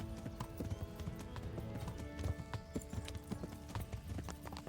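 Horse hooves clip-clop in a video game, a steady, continuous trotting rhythm of close hoofbeats running through the whole stretch, with faint background ambience.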